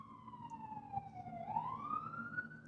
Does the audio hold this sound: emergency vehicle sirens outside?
yes